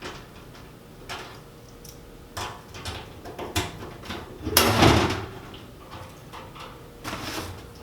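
A Vulcan heavy-duty welding cart door is unlocked and opened, with a series of sharp metallic clicks and rattles building to a louder clunk midway, then lighter knocks.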